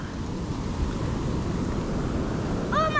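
An ocean wave surges up the beach at Bingie on the New South Wales coast, a steady broadband rush of surf mixed with wind buffeting the microphone, with a faint high voice at the end.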